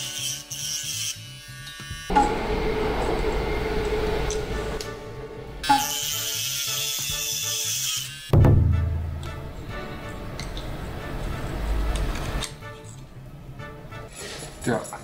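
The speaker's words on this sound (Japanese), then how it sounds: "干渉するのはしょうがないということで削ります。" A Mini 4WD model car part being shaved down where it rubs the tyre, heard as bursts of high whirring, grinding tool noise broken by pauses and handling clatter, close up with no talk.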